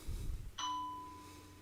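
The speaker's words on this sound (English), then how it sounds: "Ding dong." A doorbell chimes once during an indoor tai chi leg-day exercise session, a faint, clear electronic ding whose tone rings on and slowly fades over low background noise.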